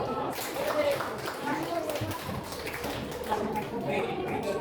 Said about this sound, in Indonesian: Jalan tepuk tangan untuk kelompok 1.